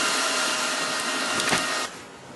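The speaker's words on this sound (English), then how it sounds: "Now I'm going to weld them all in solid, and then we'll go do the other row." Steel tabs are welded solid onto a falling plate target for .22 rimfire. The arc gives a dense, close, continuous crackling hiss that cuts off abruptly just before the end, with no talk.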